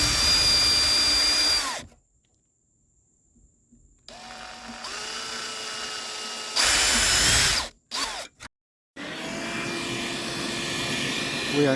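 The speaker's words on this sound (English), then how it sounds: "With a 1/8" drill bit, we will drill all the way through the plastic fuel tank." A power drill with a 1/8 inch bit bores through the plastic 20-gallon fuel tank of a 1996 Ford Ranger extended cab. It runs in loud, close whining bursts, stopping and restarting with short silent gaps between them.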